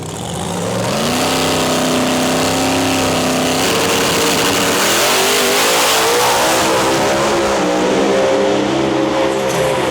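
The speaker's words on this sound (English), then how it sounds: "Gregory Chandler driving the Twisted Metal Camaro" A Camaro drag car launches and accelerates hard down a drag strip in True 10.5 racing, its loud engine revving up through rising harmonic sweeps with gear changes and a constant roaring wash.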